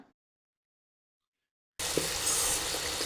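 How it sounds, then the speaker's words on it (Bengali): Water poured into a pan of cooked spinach for a hilsa curry, a steady broadband splashing and hiss that starts abruptly after a long silence and runs loud and continuous to the end. "এবার দেব পরিমাণ মতো জল"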